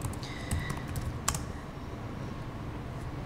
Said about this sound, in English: Typing it in still. I like to type real slow.